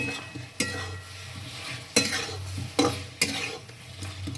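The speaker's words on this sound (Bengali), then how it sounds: "এবার ভালো করে মশলার সঙ্গে আমি আলুটাকে মিশিয়ে নেব।" Fried potatoes are stirred into a sizzling spice masala for an egg and potato curry, a steady sizzle close by punctuated by four or five sharp scrapes and knocks of the spoon against the pan.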